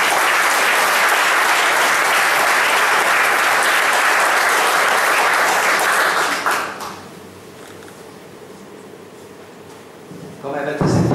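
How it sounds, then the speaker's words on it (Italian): A town council chamber breaks into sustained, dense applause for about seven seconds, then it fades to a quiet room before a brief rustle near the end. "Quindi rivolgo un applauso"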